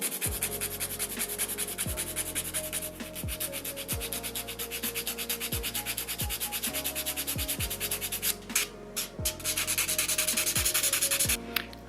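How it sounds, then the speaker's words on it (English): A nail file rasps across an acrylic fingernail in fast, steady back-and-forth strokes, close and continuous, with a few louder scrapes near the end. "Now I'm just gonna file the middle finger."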